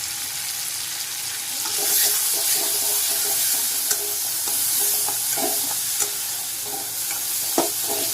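Cumin seeds frying and being stirred in a pan while cooking dalma, a steady sizzle with scattered clicks of a utensil scraping the pan, close and moderately loud, no talking.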